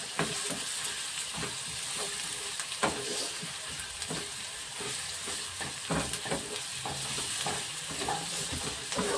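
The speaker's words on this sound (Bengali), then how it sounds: "পেঁয়াজ কুচিটা দিয়ে দিলাম। ভালো করে নেড়ে নিতে হবে।" Chopped onion stirring and sizzling in a frying pan for a dhaba-style egg tarka, a steady close fry hiss broken by repeated scraping stirs of the spatula.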